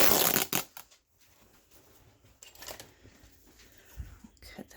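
Stiff fabric being ripped by hand, several short sharp tearing bursts with quieter rustling between them, close and fairly faint.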